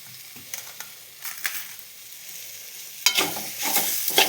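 Mango pieces sizzle quietly in a hot pan while a spoon stirs and scrapes, with a louder burst of frying and stirring toward the end.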